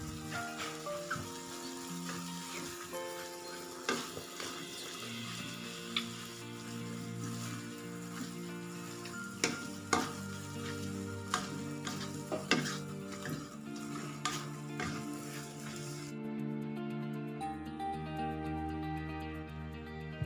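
Fried wontons being stirred in a pan with sweet soy sauce, a steady sizzle with repeated spatula scrapes and taps, close and fairly quiet, with no talk.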